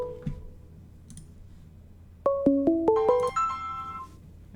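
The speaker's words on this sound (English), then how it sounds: "that is a phone call" A phone ringtone goes off mid-game during a Heroes of the Storm-style match commentary: a rising sequence of six or seven clear electronic tones in a quick stepped melody, fairly loud over quiet background sound.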